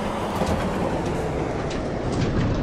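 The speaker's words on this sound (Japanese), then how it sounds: "今回は走行音を鳴らして対向列車を登場させます。" Steady rumbling train running noise from a Unity train-driving game, with a faint rhythmic clatter of wheels on rails, continuous and fairly loud throughout, no voices.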